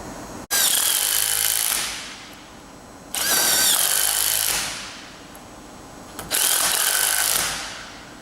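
Power tool tightening nuts and bolts on a hinged plate-grip conveyor belt fastener, three loud whirring bursts, each rising then winding down, close up with no talking.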